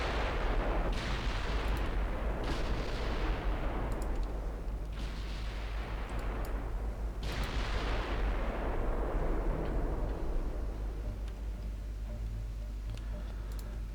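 Warship artillery in Ultimate Admiral Dreadnoughts, with secondary guns firing: a continuous rumbling barrage with several heavy booming salvos in the first half, then a steady low roar of distant gunfire.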